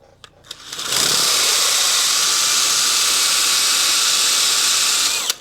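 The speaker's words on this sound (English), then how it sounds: "So I'm going to drill it out" Power drill boring out a stuck screw on a 1975 Yamaha DT175 motorcycle, a few faint taps first, then a loud, steady high-pitched whine running for about four seconds before it stops.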